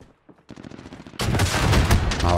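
Gunfire from a weapon in Call of Duty Modern Warfare, starting with a few sparse shots and then turning into a loud, dense burst of continuous firing that lasts to the end.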